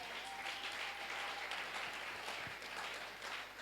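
A church congregation at a French-language service applauds and cheers the Lord: steady, dense clapping throughout, moderately loud and continuous, with a faint voice or tone mixed in.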